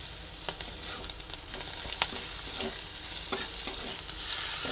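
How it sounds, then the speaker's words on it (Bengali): Chopped ginger fries in a pan alongside green chillies, giving a continuous bright sizzle marked by repeated scraping stirs of a spatula, close and steady throughout. "আদাটা দিয়ে আবার একসঙ্গে ভেজে নিচ্ছি"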